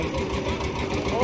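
A large fishing trawler's diesel engine thuds in a rapid, rhythmic knock at the shore of the Bay of Bengal, steady and fairly close, with a faint voice in the background.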